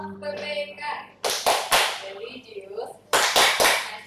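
Rhythmic group hand clapping at a vocational high school orientation comes in two sets of three sharp, crisp claps, with a voice speaking before and between them.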